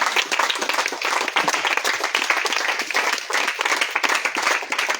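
A church congregation at an evangelical service claps and applauds steadily and loudly, a dense continuous wash of many hands with no pauses.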